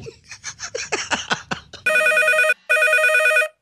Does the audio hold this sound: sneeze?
no